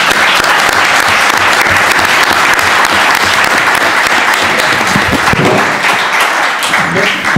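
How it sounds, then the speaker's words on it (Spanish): An audience at a book presentation applauds, a dense, loud and sustained wash of clapping from many hands that tapers slightly near the end. "por tanto Ángel Mazo merece un aplauso"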